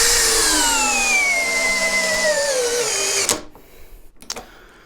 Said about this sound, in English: We're going to run this test in gear number 1 to try and get the maximum torque output from these machines